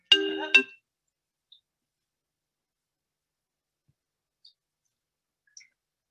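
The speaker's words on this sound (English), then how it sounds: "Do you like my Lama Yeshe laughing ringtone?" A phone ringtone of Lama Yeshe laughing plays once, a short clear burst of laughter, followed by near silence broken by a few faint clicks.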